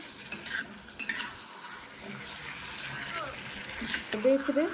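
Chicken masala is stirred in a pan, giving light sizzling and intermittent metal spoon scrapes and clinks against the pan, with a voice speaking over it.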